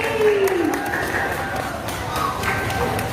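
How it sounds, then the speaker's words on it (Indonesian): A crowd applauds the participants of a Muharram competition, a dense, steady wash of clapping lasting the whole stretch, with faint voices and a thin tone running through it. "kita beri tepuk tangan untuk para peserta DAI"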